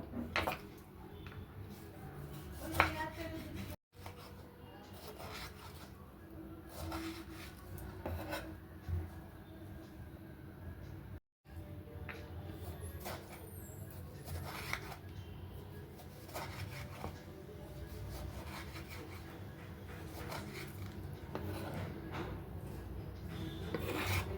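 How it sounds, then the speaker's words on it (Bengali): Two tomatoes being chopped on a board, a steady series of knife taps and scraping strokes over about twenty seconds, close and fairly quiet, with a faint background murmur. "টমেটো দুটোকেও আমি কুচিয়ে নেব"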